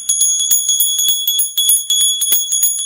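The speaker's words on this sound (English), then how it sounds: "We're going to ring the bell." A small meditation bell rings out repeatedly in quick, bright strikes with a sustained shimmering high ring, fairly loud and close, with no voices.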